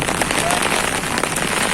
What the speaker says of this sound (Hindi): अब तो तूफानी बारिश हो रही है।